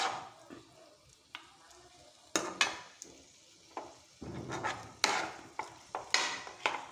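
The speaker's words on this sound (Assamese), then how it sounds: "অলপমান মই পাৱাৰটো অলপ বঢ়াই দিছোঁ, যাতে অলপ হাই ফ্লেম কৰি দিছোঁ যাতে মটনখিনি ধুনীয়াকৈ ভাজ খাই যায়।" Goat mutton frying over a high flame, with faint sizzling and a series of sharp utensil scrapes and clatters against the pan at irregular intervals, fairly quiet and close.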